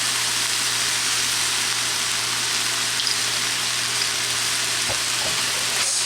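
Fried rice sizzling loudly and steadily in a hot pan as soy sauce cooks in, a constant hiss with a couple of faint taps near the end and no talking.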